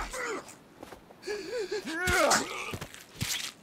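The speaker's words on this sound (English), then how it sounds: "Just breathing heavily." A character in the Sons of the Forest video game breathing heavily, with ragged gasps and groaning breaths rising and falling over a few seconds, close and fairly loud, with faint rustling between.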